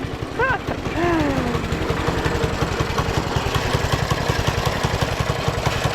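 A small minibike engine idles with a steady, throbbing putter, loud and close, with a brief higher whine near the start.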